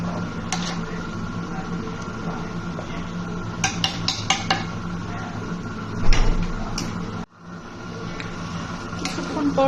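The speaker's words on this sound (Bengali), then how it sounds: "আমি আবারও নেড়ে চেড়ে দিব" A spoon stirs goat tripe curry in a pot, with repeated metallic scrapes and clinks against the pot over a steady background hum, followed by a heavier clatter and a brief drop to quiet.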